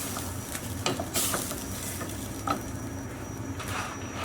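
Meat and sauce stirred together in a pan for stuffed eggplant, a soft sizzle with irregular scraping and clinking as the spoon moves through the mixture.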